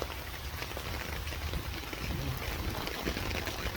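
Heavy rain pours down in a sudden, dense downpour, a loud and continuous hiss of drops drumming on surfaces nearby, steady throughout with no clear voices.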